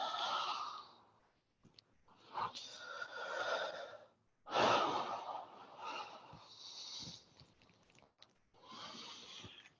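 Slow, audible yoga breathing close up: a few long airy inhales and exhales with soft sighing, separated by brief quiet gaps and faint clicks, no speech.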